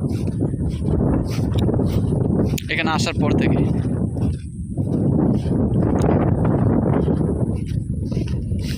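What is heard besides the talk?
strong wind blowing into the microphone outdoors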